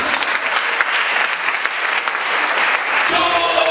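A church congregation claps loudly and continuously, with dense, close applause that keeps up throughout.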